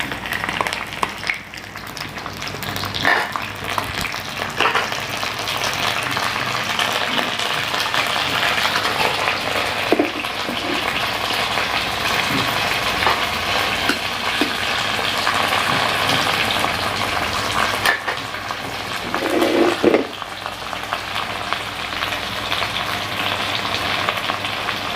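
Pumpkin and shallots stir-fry Thai style in a pan, giving a loud, continuous close sizzle and hiss for the whole stretch, with occasional scrapes and clinks of stirring.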